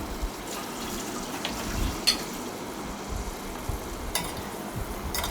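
Chicken 65 biryani is mixed in a pan with yogurt added, giving a soft, steady, wet stirring and scraping sound with a few brief clinks. It is quiet and close, with no talk.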